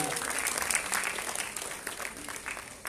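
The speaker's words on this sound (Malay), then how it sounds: "beri tepukan untuk official photographer kita" A pageant audience at the Miss & Mister Petite Sarawak 2019 semi-final claps for the official photographer, a dense, lively round of applause running throughout with a voice partly mixed in.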